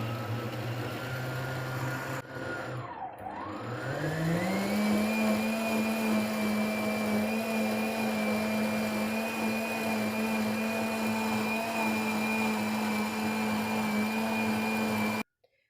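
An electric blender whirs steadily while mixing crêpe batter, a loud continuous motor drone that dips briefly near the start, then rises in pitch and holds evenly until it cuts off abruptly at the end.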